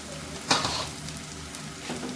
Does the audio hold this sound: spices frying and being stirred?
yes